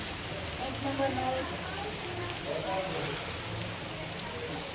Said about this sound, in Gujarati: કેવો મસ્ત મજાનો વરસાદ આવી રહ્યો છે